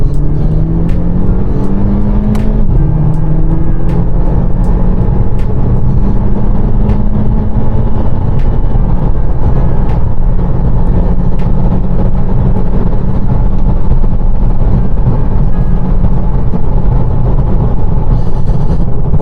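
Hard acceleration in a VW Mk5 Golf GTI with the 2.0 TFSI engine, revs climbing loudly through several gears with distinct drops at each shift, a steady engine drone heard from inside the car with no talking.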